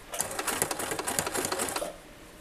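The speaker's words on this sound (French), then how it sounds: "Et on va donc commencer à coudre." A sewing machine stitches the hem of a furoshiki cloth in a fast, even run of close mechanical clatter that stops abruptly near the end, with no talking.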